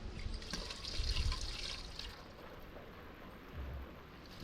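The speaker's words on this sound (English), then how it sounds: "Let's do some saltfish wash off the right and proper way" Running tap water splashes steadily while salt fish is rinsed off for Jamaican ackee and saltfish, a continuous close gushing flow that swells and eases slightly.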